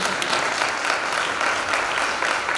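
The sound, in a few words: applause for Pastor Ramesh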